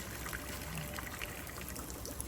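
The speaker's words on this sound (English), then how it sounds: "We have the pond, a creek, and then another creek. And so that's where the sounds of water are coming from" Water trickles and burbles steadily from a garden pond and two small creeks, a soft, even flow heard alone at low volume.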